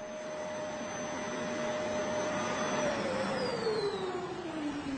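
A household vacuum cleaner, one of several models tested for how it sounds, runs continuously and loudly close by, its airy roar carrying a tonal whine that slowly drops in pitch.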